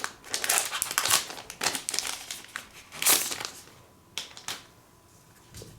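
Plastic film is peeled and crinkled off an Apple Magic Trackpad 2, bursts of close crackling and rustling in irregular clusters that thin out toward the end, with no talking.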